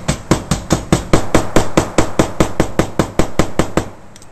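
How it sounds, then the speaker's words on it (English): A hammer taps steadily on metal spouting to fold down a lip, about fifteen sharp, evenly spaced metallic strikes, close and loud with no talk. "I don't want to have any build-up, so we're just going to tap that down with a hammer."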